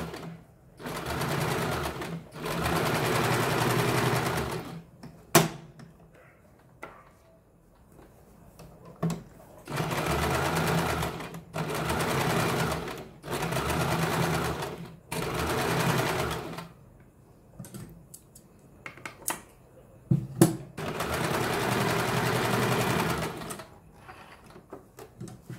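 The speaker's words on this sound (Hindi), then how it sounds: "उसके बाद हमने ये सिलाई लगानी शुरू की है" A sewing machine stitches a katori blouse in loud, close bursts of rapid whirring, several runs of one to three seconds with short pauses and clicks between them.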